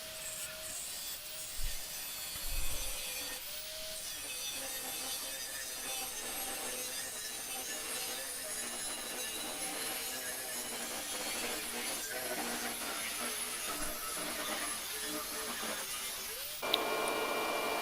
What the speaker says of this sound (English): So this belt sander comes in handy for metal work.